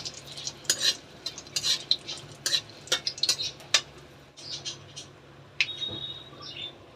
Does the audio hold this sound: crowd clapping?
no